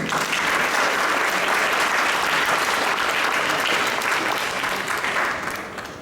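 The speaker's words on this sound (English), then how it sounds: "Can you guys give a round of applause for them again?" Audience at a skit performance event applauds steadily and loudly for about six seconds, the dense clapping tapering slightly at the end.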